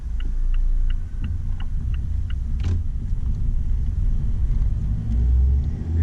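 A 2019 Mazda MX-5 Miata rumbles low and steady from inside the cabin as it pulls out, with a faint rhythmic ticking like a turn signal over the engine.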